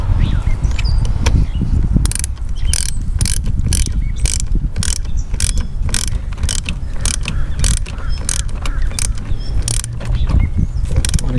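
Ratchet tightening a car battery's positive terminal clamp, a loud, close run of rapid clicking pawl strokes in steady bursts over a continuous mechanical rasp.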